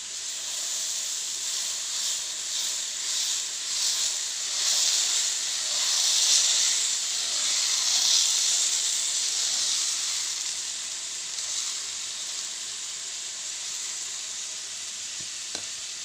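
An egg dosa cooks on a hot pan, giving a continuous bright sizzling hiss that stays steady and close for the whole stretch, with one faint tap near the end.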